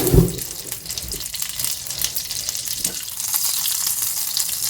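Butter sizzles in a small hot frying pan over lowered heat, a steady close crackling hiss with a brief louder clatter at the start and no talking.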